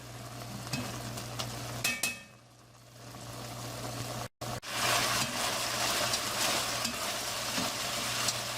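Turtle sauce piquant liquid cooking down in a pan toward bare metal, a continuous close sizzle and hiss with a few stirring scrapes, briefly dipping and cutting out before resuming steadily, with no talking.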